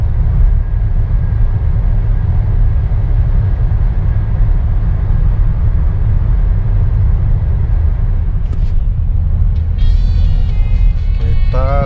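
A car cruising on a highway above 100 km/h on a road trip from Yogyakarta to Bali, heard from inside as a loud, steady low rumble of engine and road noise that continues without a break.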